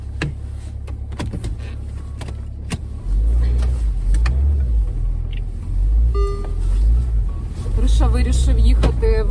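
A car driving on the morning school run, with a low road rumble that swells after a few seconds, interior clicks and rattles, and a voice chattering briefly over the engine.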